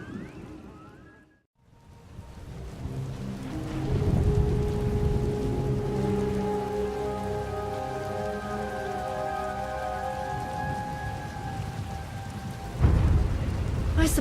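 A heavy rainstorm in the sci-fi game Star Wars: The Old Republic, a steady dense hiss of rain pouring on surfaces with low rumbling thunder beneath and faint tonal game music, after a brief drop to near silence early on.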